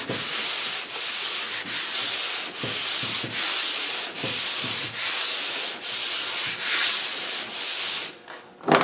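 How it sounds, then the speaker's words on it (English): Hand sanding of body filler on a sanding block, a close, steady run of about a dozen rasping back-and-forth strokes, each separated by a brief pause. "So we're going to keep on just sanding that ever so lightly."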